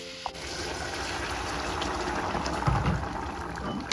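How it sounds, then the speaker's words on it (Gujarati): Water poured into a pot of Gujarati-style dudhi (bottle gourd) and chana curry, a steady trickling, splashing pour lasting several seconds, fairly close and moderately loud with no talking. "આમાં પાણી મૂકી દઈશ ગરમ"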